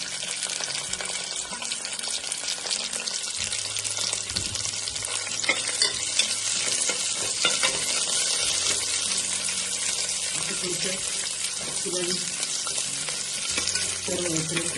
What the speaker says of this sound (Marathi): थोडंसं परतून घ्यायचा परतून घ्यायचा कांदा चांगला गुलाबी झाला झालेला आहे